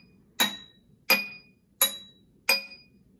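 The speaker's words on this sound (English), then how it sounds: "Put some water in some glasses and tap." Four gentle taps on a glass holding water, evenly spaced about two-thirds of a second apart, each a bright, ringing clink that fades quickly, close and clear with no talking.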